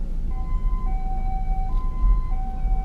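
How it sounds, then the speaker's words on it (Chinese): An ambulance siren, likely leaving a hospital, wails in a steady two-tone alternation through heavily jammed traffic in Guangzhou's old city, sounding fairly clear over a low rumble of engines. "可能是从中医院出来的一个救护车需要在这边呢能够通行"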